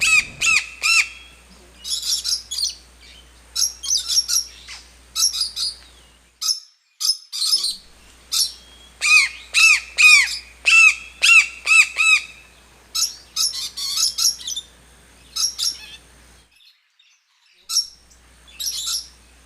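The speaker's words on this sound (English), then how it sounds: "The bird name Toucan." Toucan calls in a series of sharp, repeated croaking squawks delivered in irregular bursts, loud and close, with brief pauses between groups and a faint low hum underneath.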